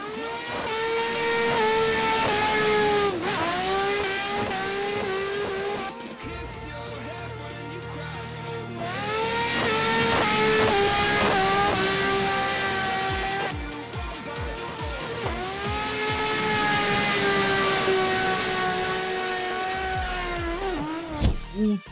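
A race car engine in the video game Assetto Corsa climbs through the revs in three long pulls, dropping pitch at each gear change, with tyre noise and brief talk in quieter moments.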